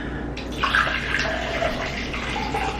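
Tap water gushes steadily and fairly loud in a kitchen, a continuous splashing rush that carries on without a break, with no one talking over it.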